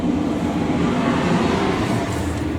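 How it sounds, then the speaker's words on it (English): A train rumbles past nearby, a steady broad roar with deep low-end rumble that holds throughout, with no voices. "There goes the train."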